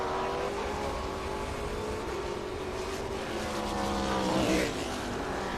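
A Trans Am Series race car exiting the pit lane during qualifying at Barber Motorsports Park, its engine a steady, fairly distant drone that swells briefly near the end.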